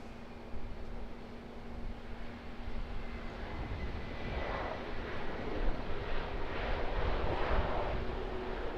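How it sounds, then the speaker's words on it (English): A Malaysia Airlines Airbus A330-200 arriving from Kuala Lumpur lands at Auckland Airport, its engine roar swelling steadily from a distant rumble to a louder, broad rush mixed with wind buffeting. "Malaysia Airlines Airbus A330 coming in from Kuala Lumpur."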